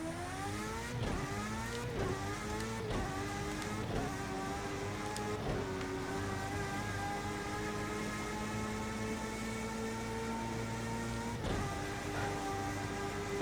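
An F1 race car engine in a racing video game at Monza, revving hard with rapid upshifts, each gear change dropping the pitch before it climbs again; loud and continuous, with no talking.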